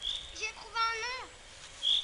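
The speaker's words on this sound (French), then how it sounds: "Vous entendez le bruit que fait l'oiseau?" A bird sings from high in a tree in a forest, giving a short series of rising, warbling whistled notes with brief chirps before and after, clear against a quiet outdoor background.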